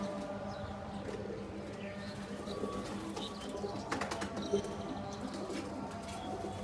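Pigeons kept in a backyard loft, including a Rampuri, let outside to bathe in water; steady low cooing and light bird calls run throughout, with a few brief flutters and bursts of movement midway, no talking.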